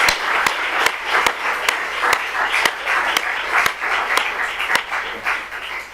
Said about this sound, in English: can we just big round of applause for everybody